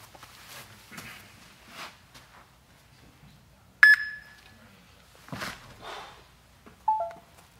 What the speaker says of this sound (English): It'll beep for me so I'll know when it's ready for me to go.